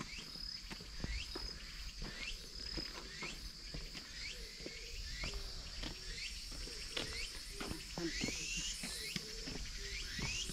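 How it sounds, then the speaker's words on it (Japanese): Insects, likely cicadas, drone steadily on a mountain trail toward the summit of Myojinsan, with repeated sharp calls rising over a continuous background buzz and scattered clicks or footsteps, fairly quiet overall. "めっちゃセミ鳴いてる"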